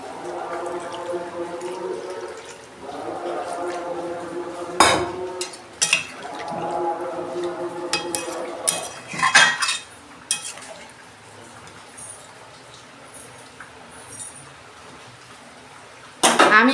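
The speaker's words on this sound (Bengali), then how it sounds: "এবার আমি জল দিয়ে দেবো, কষানো হয়ে গেছে" Water is poured into a pan of chicken and potato curry on the stove in running bursts, broken by a few clinks of a spoon against the metal, then the kitchen goes quieter.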